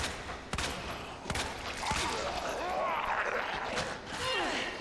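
Gunfire in the Resident Evil 2 Remake video game, a recoil-free handgun pumping shots into zombies' heads: a few sharp separate cracks early, then a muddier stretch of in-game commotion, with someone talking throughout.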